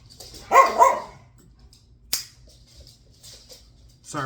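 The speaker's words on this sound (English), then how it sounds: "Sorry for the dogs." Dogs bark indoors in a quiet workshop, a quick pair of sharp barks near the start, then a single sharp crack and another short bark at the end, separated by near silence.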